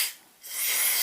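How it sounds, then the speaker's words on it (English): Cleaner sprays in two short hissing bursts into the parts of a Worx drill, heard up close with a brief pause between them. "spray it in all the little nooks and crannies, like this"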